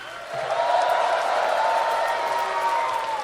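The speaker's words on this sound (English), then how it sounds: "A cheer for Waka Flocka!" A crowd at a live show cheers for Waka Flocka, a sustained roar of voices and whoops rising in after a short moment and holding steady at full volume.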